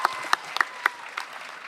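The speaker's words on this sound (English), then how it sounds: "That deserves a round of applause." A few people in a small interview audience clapping briefly, with sparse, uneven claps close by and soft background noise.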